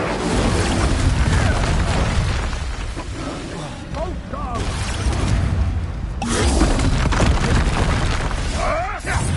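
Expulso explosion spells go off in a Hogwarts game, with repeated booming blasts and whooshes in a noisy battle, while a voice shouts throughout.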